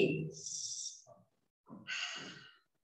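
Slow, deep breaths during a breathing exercise in a class session: a long airy exhale, a pause, then another full breath in and out. The breaths are close and fairly soft.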